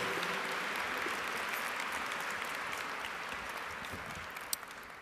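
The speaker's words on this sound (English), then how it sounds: "Everybody give her a big round of applause" Audience applause for a brave volunteer brought on stage at a magic and brain talk, a dense steady burst of clapping from the crowd that slowly tapers off over a few seconds, with no voices.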